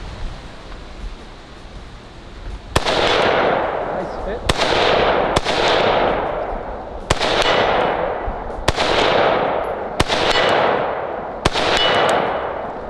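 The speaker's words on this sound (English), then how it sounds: "So I'm just gonna take a couple shots at the 100 yard and let's just see where we're at here." Rifle shots fired at a 100-yard target while sighting in an LPVO optic: seven sharp, loud cracks at irregular intervals, each followed by a long echoing decay outdoors.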